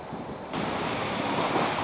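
Steady wind rushes and buffets outdoors, growing stronger after a moment, with a broad roar like gusts hitting the microphone.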